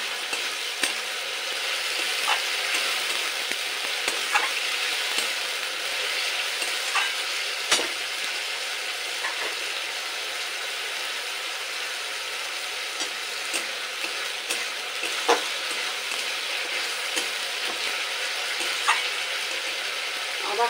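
Ginger, green chilli and garlic paste sautéing in a pan before chicken goes in, with a continuous bright sizzle and frequent clinks of a spatula scraping and stirring.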